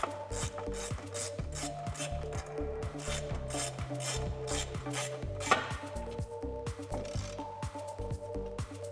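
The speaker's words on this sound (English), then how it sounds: "go ahead and tighten that down with your 4mm Allen key or Allen socket" A 4mm Allen socket tightens bolts on the nerf bars of a 2005-2021 Tacoma Double Cab, giving rapid, repeated ratcheting clicks at a steady rhythm up close, with a faint metallic tap midway.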